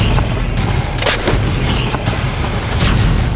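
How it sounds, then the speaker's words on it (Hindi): An M777A ultralight howitzer fires, heavy booms rolling through a dense, loud wash of rumble with a few sharp blasts standing out. "M777A अल्ट्रालाइट हॉवित्जर तोप"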